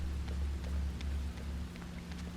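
Steady rain falls at night in the video game Fatal Frame: Maiden of Black Water, an even, constant hiss over a low droning hum, with no voices.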